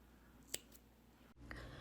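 Scissors snip knitting yarn with a single sharp, quiet cut close by, followed by a faint second click in an otherwise still room.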